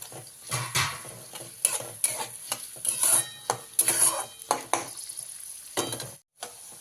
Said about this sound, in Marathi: कांदा चांगला मऊ होईपर्यंत चांगला आपण याला भाजून घ्यायचा तेलामध्ये